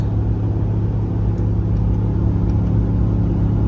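A Ram truck's Hemi V8 gives a steady, deep engine rumble with a throaty exhaust drone, loud and close, holding constant throughout without talk.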